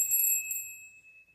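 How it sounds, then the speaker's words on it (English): A small meditation bell struck once, giving a bright high ring with a clear sustained tone that slowly fades, close and alone. "and this is my meditative bell."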